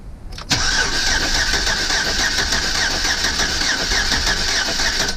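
Chevrolet Silverado engine cranking over steadily for several seconds after a sharp start, a loud, continuous, even churn during a compression test on a truck with a misfire.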